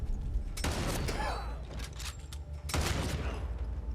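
Bursts of gunfire from a Fear the Walking Dead episode, two heavy blasts of shots separated by a short gap, rumbling and dense over the show's soundtrack.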